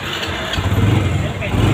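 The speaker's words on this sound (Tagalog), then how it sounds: "Sa katunayan, may push button itong motor na to." A motorcycle engine starts by push button and settles into a steady, close rumbling idle, loud and continuous, with someone speaking over it.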